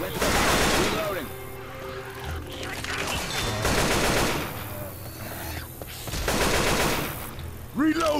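AK-47 fire in Left 4 Dead 2, loud continuous automatic bursts through most of the clip with brief lulls, mixed with busy game sounds and scattered voices.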